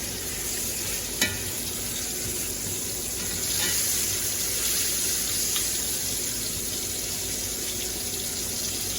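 Berkshire pork chops sizzle steadily in a pan after flipping, a continuous close frying hiss with a sharp tap near the start and no talk.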